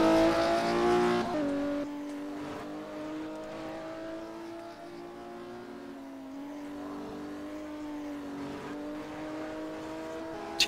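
Classic Porsche race car engine in a sim racing game at Kyalami holds a steady, moderately loud drone with a pitch shift near the start and subtle rises and dips, with no talking.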